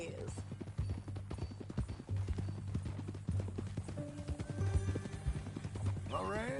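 Horse hooves clip-clop steadily in Red Dead Redemption 2, a rhythmic run of close hoof strikes with a short whinny near the end, as voices talk over the riding.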